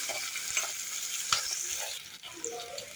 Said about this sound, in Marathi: छान गोल्डन ब्राऊन होईपर्यंत कांदा परतून घ्यायचा आहे.